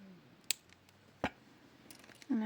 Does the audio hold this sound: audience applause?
no